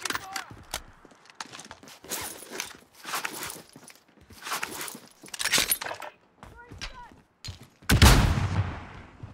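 Video game gunfire in bursts and single shots mixed with footsteps and clattering effects, ending in a loud close blast, with players talking over much of it.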